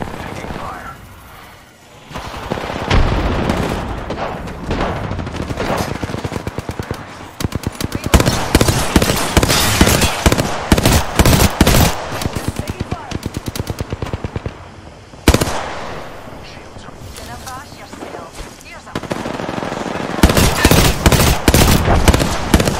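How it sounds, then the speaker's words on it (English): Rapid automatic gunfire and bursts of shots in the Apex Legends video game, loud and nearly continuous with short gaps, mixed with game effects and occasional spoken lines. "Running! Taking fire!"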